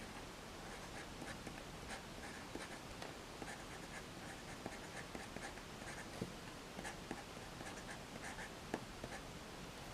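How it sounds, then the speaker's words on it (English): A Sailor fountain pen writes a name on paper in Sailor Manyo Fuji ink, giving a faint, steady nib scratch with small strokes, very quiet and close over a soft background hiss, with no talking. "I'm just going to use the pen to write in the name."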